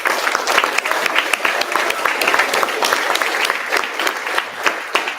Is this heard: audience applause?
yes